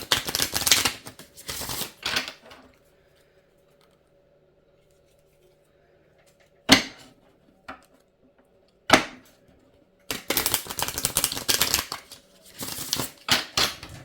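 Oracle cards being shuffled and pulled, crisp riffling bursts close by at the start and end, with a couple of sharp single card snaps in between and near silence otherwise.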